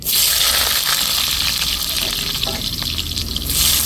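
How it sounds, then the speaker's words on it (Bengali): Cut potatoes dropped into hot oil with dried red chillies and black cumin, giving a loud, steady, hissing sizzle that fills the whole stretch without pause. "আলুটাকে একটু লাল লাল করে ভেজে নেব"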